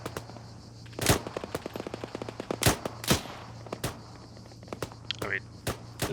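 Arma 3 video game combat: strafing gunfire cracks in loud bursts and scattered single shots, some close and sharp, others farther off, over a steady hum with voices talking at times.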